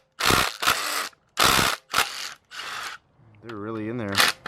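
A ratchet wrench loosens the oil pan bolts on a blown Ford Focus ST engine, close and loud, with several separate bursts of rapid clicking and short pauses between them, ending in a brief whining mechanical turn.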